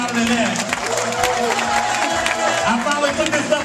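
Audience applause and cheering at a fashion show, steady broadband clapping from a crowd with voices mixed in and some talk running underneath.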